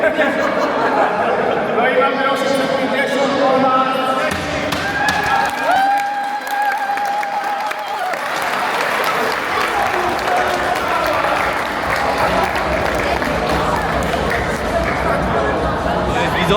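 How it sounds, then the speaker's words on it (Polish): Applause for both teams at the start of a charity tournament final, a hall crowd clapping in a broad wash with chatter and some laughter, while someone speaks into a microphone over it. "Brawa dla obu drużyn oczywiście. Dziękujemy za brawo."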